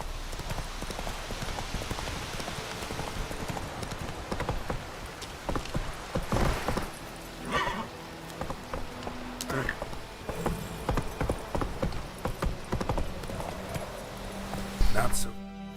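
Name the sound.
horse galloping in a video game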